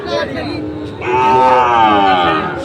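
Loud, close moos of Sahiwal bull calves at a cattle market, one short call followed by a long drawn-out low bellow.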